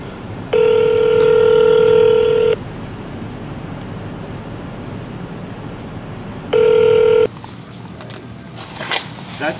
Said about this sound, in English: I'm ringing his phone now.